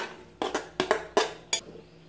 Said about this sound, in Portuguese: Eu vou colocar o meu abacaxi na panela de pressão